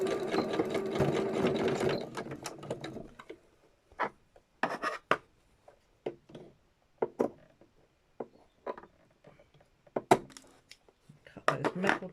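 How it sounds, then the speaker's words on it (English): A sewing machine running a line of stitches across Gelli-printed fabric for a journal, a continuous whirring burst at first and then short intermittent stitching spurts with clicks and handling in between, close and fairly quiet. "I'm just going to run a stitch across there so I'm not fighting with that."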